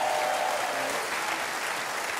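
Applause from a TV studio audience on a footy show, a dense steady roar of clapping that stays loud and even throughout with no voices over it.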